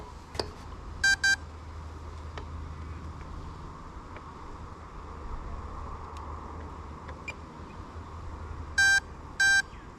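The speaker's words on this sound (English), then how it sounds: "That series of beeps there is showing me that low is on is off." Electronic speed controller in an FMS 1300mm Carbon Cub RC plane beeping during throttle programming: a short double burst of tones near the start and another pair near the end, over steady background hiss and wind noise.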